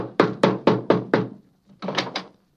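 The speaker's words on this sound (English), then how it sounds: "I think I'll knock on the door." Knocking on a door as a 1942 radio drama sound effect: five sharp, evenly spaced raps, a short pause, then two more, loud and close.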